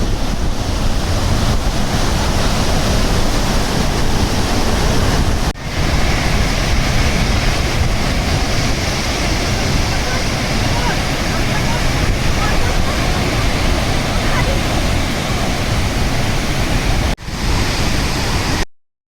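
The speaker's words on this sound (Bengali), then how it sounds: "গেলাম জোনা ওয়াটার ফলস দেখতে ঝর্ণাটা পুরো মাথার উপর পড়ছে" A waterfall, Jonha Falls near Ranchi, roars loudly and continuously, a dense rushing wash of falling water that stays steady throughout.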